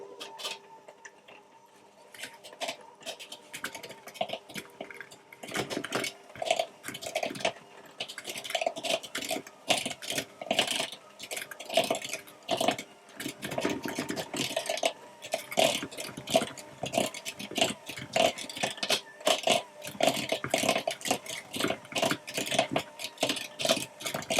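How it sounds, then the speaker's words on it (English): Egg for almond paste puff pastries is whisked in a bowl, producing rapid, continuous clicking and tapping that grows busier after the first few seconds and keeps an even, close, rhythmic pace. No one talks. "I'm going to whisk this and see what consistency it is once it all comes together."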